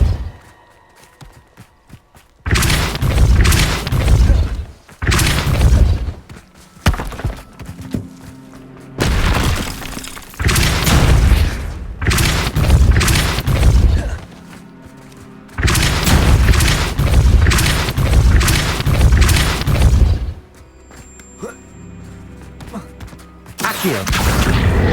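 Repulso spell blasts going off in the video game Hogwarts Legacy, a run of loud booming bursts in several long bursts with short pauses between, and a voice speaking briefly.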